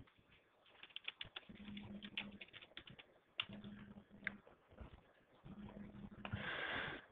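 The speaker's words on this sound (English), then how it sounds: "Type in the password for the user." Quiet, irregular clicking of a computer keyboard as a password is typed, coming in short bursts with pauses and a low steady hum in the background.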